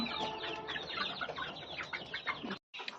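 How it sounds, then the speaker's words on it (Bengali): A big hen, just let out before dawn, clucks repeatedly in quick, busy bursts close by, with a brief drop to silence near the end. "এই দিছে আমার বড় মুরগি"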